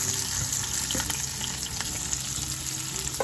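Diced onion frying in oil with mustard seeds and a pinch of hing in a pan for poha, giving a steady close sizzle and crackle that runs without a break and with no talk.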